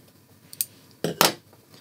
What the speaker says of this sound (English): And then I'll just give that a trim.